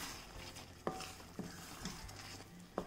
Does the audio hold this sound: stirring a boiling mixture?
yes